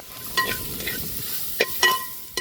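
Ground pepper and cumin masala for rasam frying in oil in a pan, soft sizzling with a few brief stirring scrapes and clinks, quiet and close.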